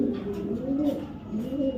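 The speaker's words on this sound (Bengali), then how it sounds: "একটা রেসার একটা নর কবুতর" A black male racer pigeon coos up close in two soft, rolling phrases with a short pause between them.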